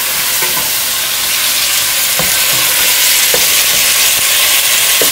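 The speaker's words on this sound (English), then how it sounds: "I had onion sauteing already." Onion sautéing in a pan for spaghetti sauce gives a loud, steady sizzle and hiss, broken by a few scraping stirs of a utensil close by.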